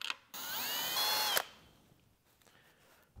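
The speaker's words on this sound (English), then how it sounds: "I'm gonna drill right into my table saw underneath." A power drill whirs loudly for about a second, its pitch rising slightly as it bites through hardwood into softer cedar, then cuts off abruptly, leaving quiet shop ambience.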